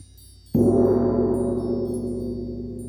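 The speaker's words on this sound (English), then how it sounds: "After that comes the gong." One deep gong stroke rings out in an art classroom and hums on, its tone fading only slowly.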